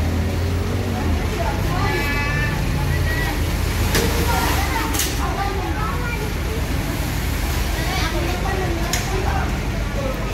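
An Adhi Prima intercity bus on the Trans-Sumatra route pulls away from the terminal, its engine giving a steady, loud low rumble throughout while people talk nearby.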